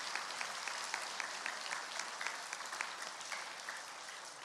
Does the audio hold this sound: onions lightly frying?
no